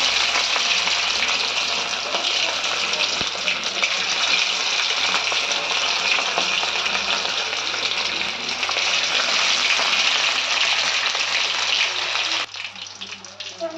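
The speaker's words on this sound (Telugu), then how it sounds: "ఆయిల్ వేడెక్కిన తర్వాత చేప పీసులను వేసుకోవాలండి" Fish pieces frying in hot oil on a gas stove, a steady, loud, continuous sizzle and crackle that holds for most of the stretch, then drops away abruptly near the end as the heat is lowered.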